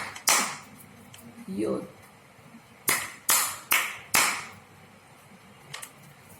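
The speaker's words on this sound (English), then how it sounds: "This is called good job thumbs up clap." Several sharp single hand claps in a teacher's demonstration of a good job thumbs up clap, one early, then four evenly spaced loud claps near the end, with brief talk in between.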